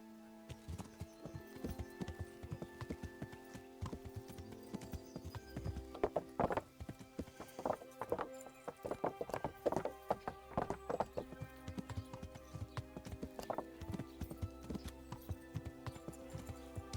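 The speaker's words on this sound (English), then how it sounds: "Now see, that horse right there, that is Rapua's horse." Horse hooves clip-clop in an irregular, fairly close rhythm in the medieval game Kingdom Come, with an occasional neigh over a steady background bed of game ambience and music.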